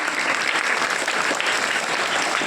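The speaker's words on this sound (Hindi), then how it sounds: "क्लैपिंग बच्चों।" Children clapping at a school National Education celebration, a thick, continuous wave of applause from a large group, loud and unbroken with no talk over it.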